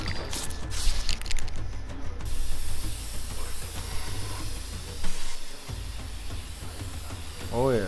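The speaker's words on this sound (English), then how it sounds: "Spray painting it up." Spray painting in inFAMOUS Second Son produces a continuous hissing spray, with short bursts and shifts in intensity, mixed with game sounds and background noise.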